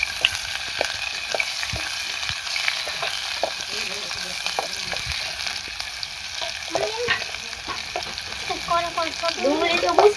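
Chopped onions fry with a steady, close sizzle in a pan as a spoon stirs them, its scrapes and clacks recurring throughout and growing busier toward the end.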